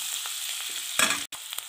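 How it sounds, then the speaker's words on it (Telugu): Onions frying in a pan for an aloo kurma, a soft continuous sizzle with a brief louder burst of crackle midway, close and with no talking. "ఆనియన్ ఫ్రై చేసుకుందాం."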